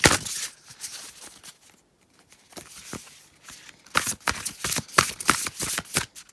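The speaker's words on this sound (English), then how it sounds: "It feels lovely when I shuffle them." Thick tarot cards are shuffled by hand in repeated bursts of crisp riffling and flapping, close and fairly loud, with a short pause midway before another vigorous run.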